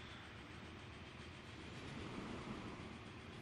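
A train in the Transport Fever video game gives a steady, quiet rumble of rolling rail cars, with an even wash of noise and no voices.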